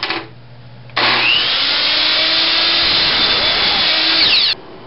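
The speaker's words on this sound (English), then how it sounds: "Next we cut that board to 11 inches long." A power saw cuts through a wooden board to length for a foosball practice plate, a loud steady whine running for about three and a half seconds after a quieter idle start, then stopping abruptly.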